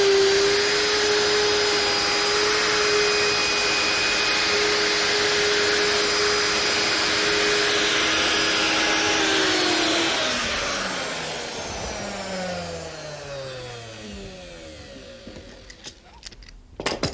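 A router fitted with a 24mm guide bush and a 19mm cutter works through wood with a loud, steady high whine. The motor then switches off and spins down in a falling tone, ending in a few clicks and knocks.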